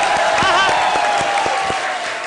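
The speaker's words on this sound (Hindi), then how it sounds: "जोरदार ताली बजाओ भी" Loud studio audience applause on a comedy show, a steady wash of clapping and crowd noise with a faint tonal line running through it, sustained for the whole moment.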